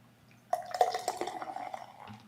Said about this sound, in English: Very heavy pour there.